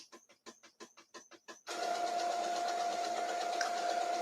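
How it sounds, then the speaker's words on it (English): Rapid rhythmic clicking pulses from a Brother MegaTank inkjet printer give way to a continuous whirring drone with a steady tone as the printer runs its self-cleaning cycle, close and moderately loud. "I have one of those mega tank printers"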